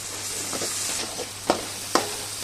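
Spice masala frying in a pan, a soft continuous sizzle with faint stirring scrapes and two sharper spatula knocks near the end, close and without speech.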